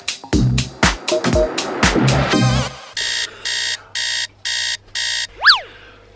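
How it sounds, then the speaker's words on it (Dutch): An alarm clock goes off indoors: a burst of clattering handling noise, then a loud repeating electronic beep in even pulses, about five in a row, ending with a rising chirp. Nobody speaks. "mijn wekker gaat weer."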